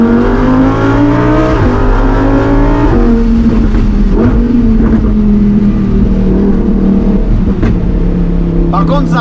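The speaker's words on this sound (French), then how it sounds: "Par contre, ça pète toujours autant." Lamborghini Huracan Performante S engine revving loud and close, pitch climbing and dropping through gear changes with sharp crackles and pops from ignition cut on shifts, under some speech.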